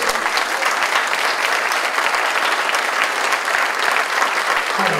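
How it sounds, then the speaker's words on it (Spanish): An audience gives loud, sustained applause to models in splendid eighteenth-century festive costume at a gala, many hands clapping together in a thick, continuous roar without a break. "Un fuerte aplauso para ellos."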